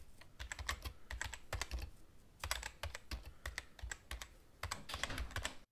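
Fast typing on a computer keyboard, close and crisp, in bursts of rapid clicking keystrokes separated by short pauses, with no talking.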